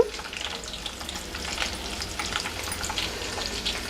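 Curry leaves and asafoetida fry in hot oil for a drumstick pickle, a close, bright crackling sizzle with light spattering that runs steadily throughout.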